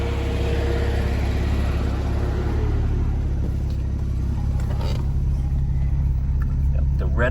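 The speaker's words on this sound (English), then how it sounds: "I'm gonna give the engine a flip." A 2010 Porsche 997.2 Turbo engine idles with a steady low rumble, close and continuous, deck lid open, while a person talks over it.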